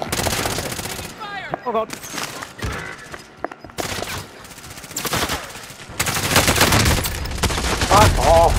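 Machine gun fire in Call of Duty: Modern Warfare, loud sustained bursts of automatic shots with a heavy volley near the end, while a player shouts and talks over the gunfire.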